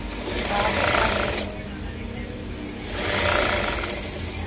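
A sewing machine stitches a frock, running in two loud, steady bursts with a short pause between them, a close mechanical whir and rattle.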